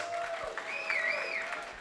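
Applause from an audience for male pageant contestants at a convention, moderate and steady with a high tonal whistle or feedback squeal sliding over the clapping.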